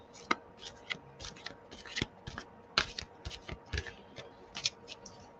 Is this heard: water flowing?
no